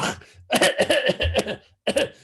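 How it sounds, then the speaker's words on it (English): Several deliberate coughs and sputtering throat noises used as a prisoners' code signal, loud and close, in quick irregular bursts with a short pause before a final cough. "And we'd cough and sputter and spit."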